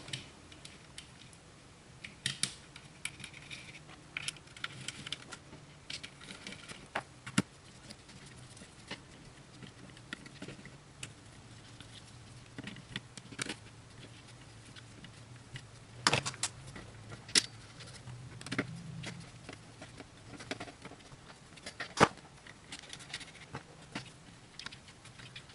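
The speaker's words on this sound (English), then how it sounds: "we're going to go ahead and reinsert these screws while we have the proper alignment" Small metallic clicks, taps and scrapes sound sporadically as screws are reinserted into a Kel-Tec Sub-2000 carbine, faint and close, with quiet gaps between handling noises.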